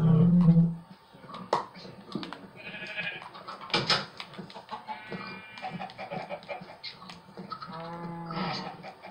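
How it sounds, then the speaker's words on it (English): Minecraft game audio: clucking and squawking chickens alongside bleating goat and sheep calls, scattered and fairly faint, with clicks and small noises in between. "Why am I hearing chickens dying?"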